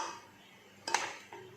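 Ice dropped into a cooking pot makes a sharp clatter followed by a second, softer knock, close and brief, with no talking.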